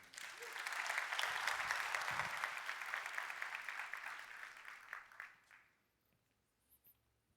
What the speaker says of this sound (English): please give a round of applause for Shreyas and the Amplifier team